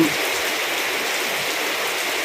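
Heavy rain pours down steadily around a home, a dense, even hiss with no breaks and no talking.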